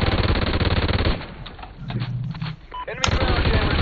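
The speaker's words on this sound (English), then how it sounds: "My thumb actually pushed and made it an assault rifle, and then I went out of control." Rapid assault rifle gunfire from the Warhawk game fills the clip: loud sustained bursts at the start, a brief lull with softer shots and other game sounds, then heavy automatic fire resumes near the end.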